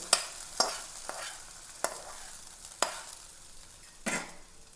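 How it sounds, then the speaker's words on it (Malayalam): Mustard seeds, curry leaves and dried chillies sizzling in hot oil for a tempering, a soft continuous frying hiss broken by a series of sharp clinks and scrapes from stirring, close and fairly quiet. "അപ്പോൾ നമുക്ക് ഇതിലേക്ക് ഒരു വറവ് ഇട്ട് കൊടുക്കാം ഇതിൽ കടുകും ഏപ്പലയും വറ്റൽമുളകുമാണ്"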